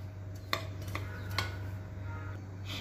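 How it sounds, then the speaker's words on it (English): Cupcake cheesecake batter being mixed by hand in a bowl, with soft scraping and clinking of a utensil against the dish, a few sharper taps standing out over a steady low hum. "so now I need to start mixing"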